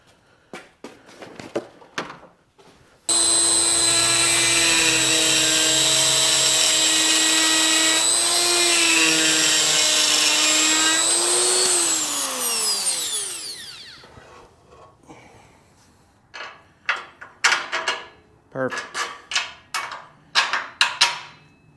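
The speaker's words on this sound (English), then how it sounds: "I'm just gonna run a die grinder in these holes and try and open those up just ever so slightly." A die grinder opens up bolt holes in a Ford Dentside truck frame, a loud high-pitched whine held for about ten seconds that winds down, surrounded by clanks and knocks of metal handling.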